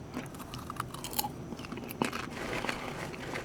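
Popcorn being bitten and chewed close up, with steady crisp crunches and crackles running continuously over a few seconds in a quiet room.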